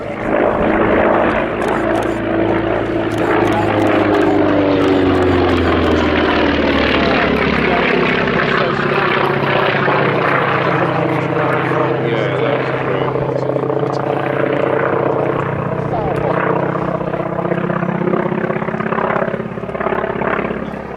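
Grumman FM-2 Wildcat fighter of 846 Naval Air Squadron, flown from the escort carrier HMS Tracker, a loud continuous propeller engine drone with slowly shifting pitch, steady and close throughout, with no pauses.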